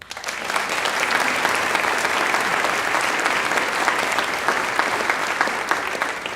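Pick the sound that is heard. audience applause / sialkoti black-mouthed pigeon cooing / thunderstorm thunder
audience applause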